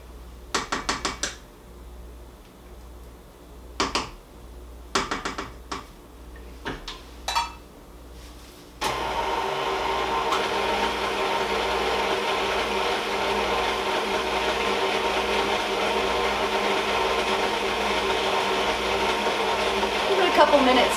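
An electric mixer works a wet Irish bread dough, starting with several short stop-start bursts before settling into a loud, continuous whirring drone that runs steadily to the end.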